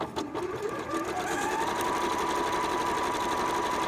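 A Janome 3160/4300 sewing machine stitches fabric in a steady, continuous whir with a rising motor tone, close and fairly loud, with no talking.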